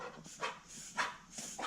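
A dog barks in a garage during work on a 1947 Ford pickup, several short sharp barks spaced roughly half a second apart at moderate distance, with no talk over them.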